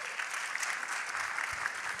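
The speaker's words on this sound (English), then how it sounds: "Give her a round of applause." Audience applause at a newspaper publishers' convention session, a steady dense patter of many hands clapping close by, even in level for the full stretch with no voices over it.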